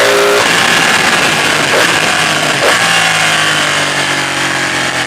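A Ducati 899 Panigale ridden hard on bumpy roads: a loud, continuous engine howl with heavy wind rush, pitch shifting as the revs change, and no talking.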